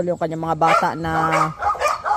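A dog in a yard barks and yips in several short, close bursts, mixed in with someone talking over it.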